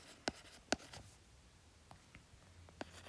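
Writing on a board during a chemistry lecture: a few quiet, sharp strokes and taps, two clearer marks near the start and a lighter one near the end, in an otherwise hushed room.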